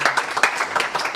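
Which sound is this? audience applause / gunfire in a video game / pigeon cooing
audience applause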